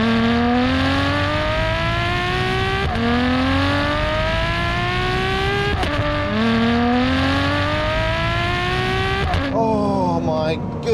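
A Ferrari 599 GTO's engine accelerates hard and loud through several rising gear pulls, each climbing in pitch before a shift, with a brief drop near the end.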